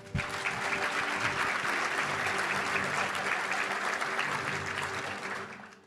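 Sustained applause from a luncheon audience at a Little Rock touchdown club, honoring an Arkansas high school football player, steady and full for several seconds before tapering off at the end.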